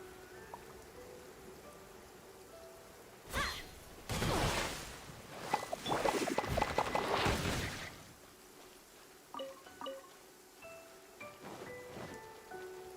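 Rain pours in the Genshin Impact game, building into a heavy downpour for several seconds with thunder-like rumbles, then thinning to a light patter with scattered drips.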